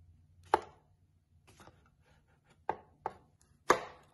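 A knife slicing mushrooms thinly on a cutting board for japchae, four or five sharp separate chops with short pauses between, close and otherwise quiet.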